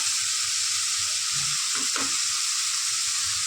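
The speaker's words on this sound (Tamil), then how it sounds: "டொமேட்டோ கொஞ்சம் வேகிற வரைக்கும் வதக்கணும் ஃபியூ செகண்ட் தான் லைட்டாக" Tomatoes sauté in a hot pan with a constant close hiss of frying, broken by a brief clatter of stirring near the middle, no voices.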